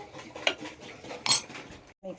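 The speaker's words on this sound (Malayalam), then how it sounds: "അത് ശരിക്കൊന്ന് സ്പൂണിനെ കൊണ്ട് കടഞ്ഞെടുക്കണം" Metal spoon churning curd inside a mixer jar, giving a couple of sharp clinks against the jar amid soft scraping and stirring.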